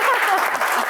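Studio audience applause during a televised food and agriculture Q&A show, a brief, loud wash of clapping under a host's voice, lasting under a second.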